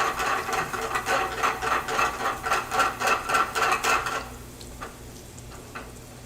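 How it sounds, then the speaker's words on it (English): Garlic sweating in melted butter in a pan while crab cakes are being made: a steady close sizzle with rhythmic scraping pulses for about four seconds, then dropping to a faint simmer. "Butter's melted down. We're sweating our garlic here."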